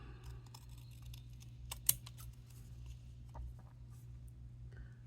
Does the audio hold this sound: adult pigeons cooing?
no